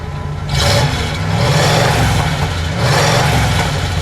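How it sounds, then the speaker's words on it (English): A 1966 Buick Electra 225 Custom convertible with dual exhaust, its engine idling with a deep rumble, then revving up twice in loud, close swells. "Go ahead, give it a little rev while we're right here"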